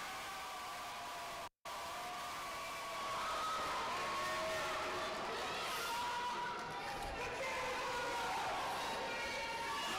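Graduation crowd at a summer ceremony in Cleveland makes a loud, steady roar of cheering and shouting that runs almost the whole time after a brief opening moment, with a moment of silence near the start.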